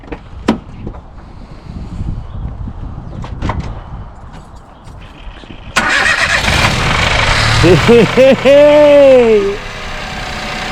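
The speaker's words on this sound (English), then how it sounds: "Start the car, Liam." A Peugeot 107 with a freshly swapped engine cranks and catches near the end after a quiet stretch with one shout, then settles into a steady, close idle with a rising and falling whine.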